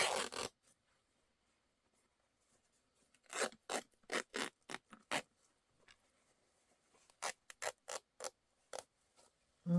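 Paper torn by hand for a junk journal: a series of short, loud ripping bursts in two clusters, close up and without talk, with quiet gaps between them.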